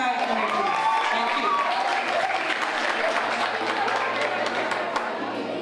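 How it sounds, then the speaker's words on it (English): Sustained audience applause at a school prize-giving and awards ceremony, greeting Vice Principal's Honor Roll awardees; steady dense clapping from a large crowd with faint chatter mixed in, continuing evenly throughout. "Give them a round of applause."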